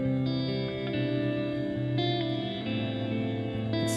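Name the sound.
T2 reverb pedal big cathedral setting, finger-picked guitar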